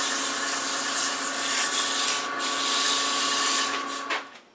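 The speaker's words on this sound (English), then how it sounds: "For a little bit of sanding." A wooden baby rattle spinning on a woodturning lathe while being sanded, a steady close hissing, whirring drone that holds for several seconds and then winds down at the end, no speech.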